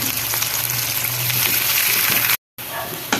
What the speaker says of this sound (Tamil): இந்த வெங்காயம் வதங்கிறது நல்லா செவக்க வரணுங்க